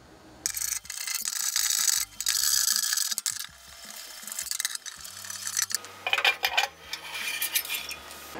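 Metal burn pot being worked loose and lifted out of a Grilla pellet grill, a close run of clanks, scrapes and rattling metal knocks, irregular and with no talking.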